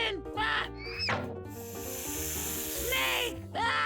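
A snake's hiss in a toddler learning video, a long loud sustained hiss in the middle set between bright voice-like cries and sweeping tones.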